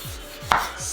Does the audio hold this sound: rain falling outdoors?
no